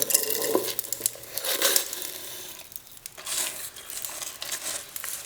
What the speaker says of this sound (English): now that the block of wax has liquefied, I'm going to add the damar.